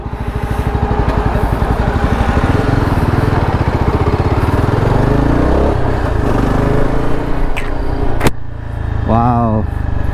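A Yezdi Adventure motorcycle's engine runs loud and close with a steady, rapid throbbing beat for most of the stretch, then drops back near the end while a person speaks briefly over it.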